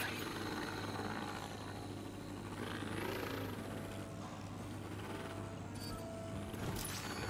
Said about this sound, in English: You see that drone?